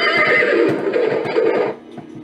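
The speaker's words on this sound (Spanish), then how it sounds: "un caballo desbocado que corría sin freno hizo que se detuviera en seco" A runaway horse gives a loud, close, shrill whinny that holds for over a second before fading, with faint hoof clatter beneath and no voices.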